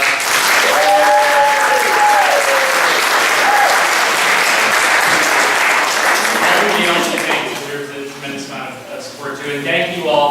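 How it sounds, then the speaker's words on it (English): Audience at a fracking seminar in Rumson, New Jersey breaks into loud, sustained applause for a speaker, with a presenter talking over it and the clapping fading toward the end. "I'd really like to give Diane a round of applause"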